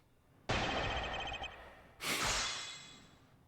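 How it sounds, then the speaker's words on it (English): Two sharp, close nasal sniffs from someone with a cold, each a breathy rush through the nose, about a second and a half apart. "Apologies for the sniffing, I have a bit of a cold."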